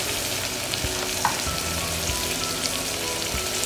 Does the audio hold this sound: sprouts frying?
yes